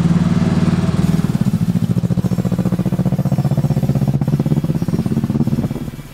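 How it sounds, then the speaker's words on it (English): A Nissan S14 Silvia with a swapped turbo engine idles roughly on only two of its four cylinders, giving a loud, close, uneven chugging pulse that sputters and fades at the end. "Right now it's running on two cylinders out of the four."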